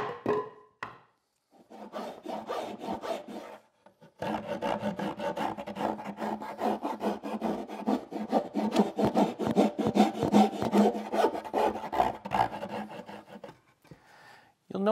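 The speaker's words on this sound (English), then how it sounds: "Then it's back to the jigsaw and the file to clean things up and make a nice smooth" A file rasps steadily over the curved arc of a wooden stretcher for a small Shaker bench, dense scraping strokes close up after a few brief opening scrapes and a pause, with no talking.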